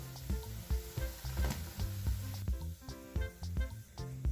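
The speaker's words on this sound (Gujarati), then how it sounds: "આ જ રીતે બીજા બધા મંચુરિયન બોલ્સ તળી લઈશું" Vegetable manchurian balls fry in hot oil with a steady, soft sizzle and crackle, close and continuous without any talk.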